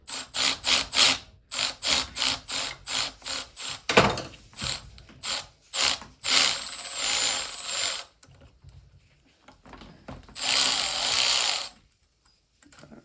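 A ratchet backing out the engine case bolts on a KX100 during a rebuild, working in crisscross order: quick bursts of sharp, close clicking, then short pauses and another long run of ratcheting.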